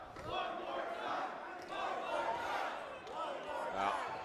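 A wrestling crowd at an indoor JCW show cheers and shouts in sustained swelling waves, loud and dense, with a commentator's voice mixed in.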